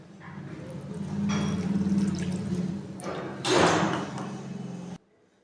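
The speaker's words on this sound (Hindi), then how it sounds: "ये हमने इसके अंदर 1/2 कप पानी शामिल किया।" Half a cup of water poured into a fish fry marinade gives a close liquid splash and trickle, with a brief louder burst near the end before it stops abruptly.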